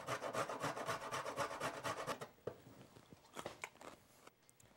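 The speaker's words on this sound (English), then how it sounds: "I'm going to grate the carrot." A carrot grated on a hand grater for a vegetable slaw: a fast run of rhythmic rasping strokes close up, then a few scattered scrapes and taps as it slows.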